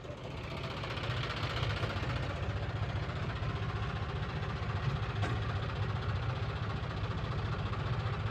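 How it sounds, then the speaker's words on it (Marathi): An International B tractor engine runs at a steady, droning idle-like rumble, continuous and fairly loud across the whole stretch, with no voices over it. "आपला इंटरनॅशनल बी ट्रॅक्टर येऊ राहिला मागून"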